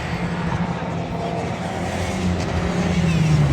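Race cars pass on the Oulton Park circuit in a club race, their engines droning steadily at a distance with a rising tone near the end.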